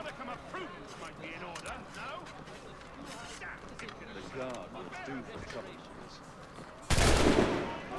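Assassin's Creed 3 gameplay with a musket shot ringing out as one loud, sharp blast near the end, preceded by scattered game effects and voices talking throughout.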